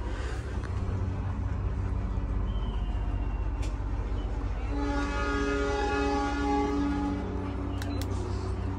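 A train departs Purwokerto station, heard from inside a suite-class carriage as a steady low rumble, with a drawn-out tonal horn or whistle in the middle and a few brief sharp clicks near the end.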